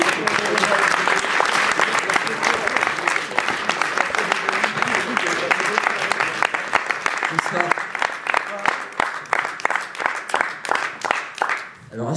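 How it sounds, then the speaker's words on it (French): A live slam poetry audience applauds loudly for several seconds, dense clapping that thins into scattered individual claps toward the end, with a voice briefly heard over it. "Veuillez faire un tapis rouge d'applaudissements pour la caution charme de Slam Alikoum."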